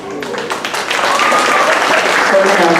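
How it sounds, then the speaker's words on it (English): Applause from a school audience at a STEM student-of-the-month recognition ceremony, building after the first moment and staying steady and loud to the end, with some voices mixed into the clapping. "We're going to hold our applause till the end of the grade level, please."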